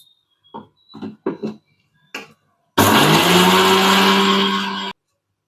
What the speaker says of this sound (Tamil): பவுட்ரு பண்ணி எடுத்துக்கலாம் கடுகு வெந்தயத்தையும்.